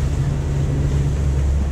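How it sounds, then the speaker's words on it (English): Strong 30-knot wind buffets a Lagoon 42 catamaran under sail in short, choppy waves, giving a loud, steady, low roaring rush with no letup. "And we have loads of wind."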